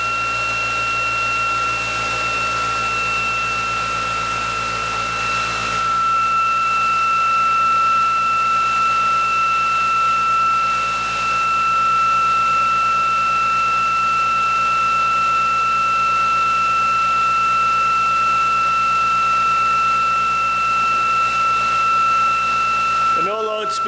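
A ReGenX generator running at about 3,344 RPM while charging a battery, a loud, steady electrical hum with constant high whining tones that persists unchanged throughout.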